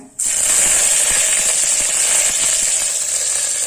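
Mustard-style spices and curry leaves crackle in hot oil for a wheat rava kichadi, a loud, steady sizzle that starts abruptly and holds throughout, with tiny pops scattered through it.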